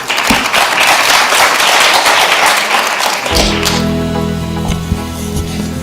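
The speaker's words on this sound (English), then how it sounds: "A round of applause for her, please." Audience at a BRICS governance and public administration conference applauding: dense, steady clapping for about three seconds that then thins into scattered claps as murmuring and chatter take over.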